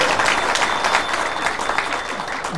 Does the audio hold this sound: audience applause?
yes